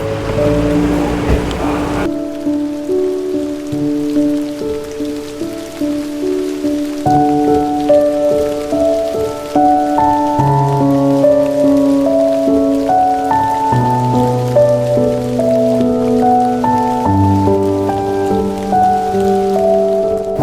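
Heavy rain pours in a steady, dense hiss throughout, with a slow tonal melody of sustained notes playing over it.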